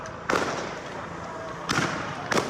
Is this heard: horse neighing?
no